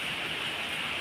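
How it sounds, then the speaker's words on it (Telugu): Steady rain falling in Hyderabad during summer, a continuous hiss of downpour close around, even and unbroken throughout with no voices. "ఈ వాన ఏం వాన"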